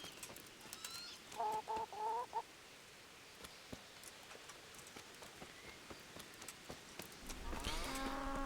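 Chickens cluck in a medieval village in the game Kingdom Come: Deliverance, with a few short bursts of clucking over quiet ambience, scattered taps and a louder cackling flurry at the end.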